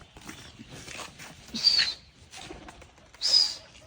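A Giribaj pigeon gives two short, bright calls a couple of seconds apart over faint rustling and background noise, close by.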